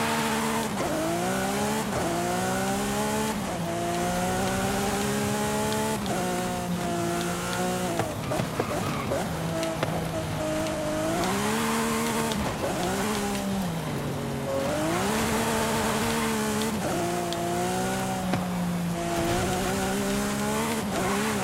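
A Lamborghini Aventador races in Forza Horizon 5, its engine whining loud and close with repeated gear shifts and rising pitch sweeps. Tire squeal marks the corners, and the engine stays prominent for the whole stretch.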